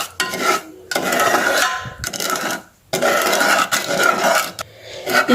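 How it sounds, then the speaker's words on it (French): Brown sugar being stirred into water, with a spoon scraping and swishing in repeated close strokes separated by brief pauses. "Puis de l'eau, puis on remue."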